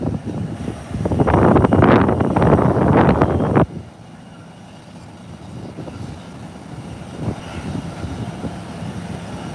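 Wind gusts hard against the microphone at an airport, a loud roaring buffet for a few seconds that drops off abruptly to a faint, steady breeze with softer gusts.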